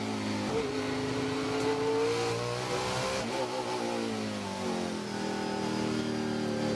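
Onboard a Trans Am Series XGT race car at Sonoma Raceway, the engine drones loud and close, its pitch sweeping up and down through gear changes and corners, with a steady roar continuous throughout.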